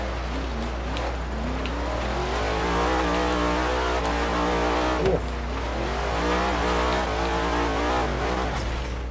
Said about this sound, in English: This thing's just screaming all the way up this mountain though. Even got some pops, full throttle.